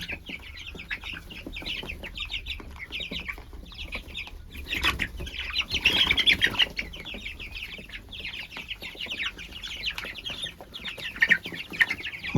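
Young 23-day-old chicks in a farmyard cluck and cheep continuously in a busy flock, with a burst of wing flapping midway; steady, moderately close, no talking.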